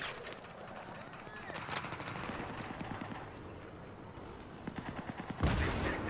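Rapid automatic weapon fire in the Battlefield 3 multiplayer shooter, bursts of fast repeated shots over a dense rumble of battle noise, with a player's voice talking over it.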